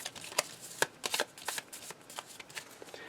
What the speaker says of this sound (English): So we'll shuffle our discard pile.